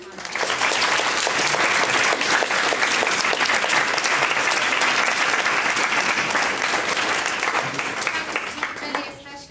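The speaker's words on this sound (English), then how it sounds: "I just want to ask everyone to join me in a round of applause to thank our great panel" A large audience gives a round of applause to thank a panel after a panel discussion. The dense, loud clapping is sustained for several seconds, then tapers off at the end.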